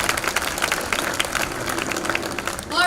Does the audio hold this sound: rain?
no